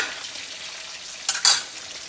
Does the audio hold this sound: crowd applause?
no